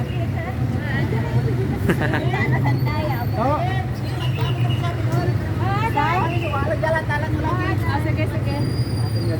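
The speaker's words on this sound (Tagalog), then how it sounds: "Traffic." Busy street traffic, steady and close, with engines rumbling and a continuous roar; people chatter nearby throughout.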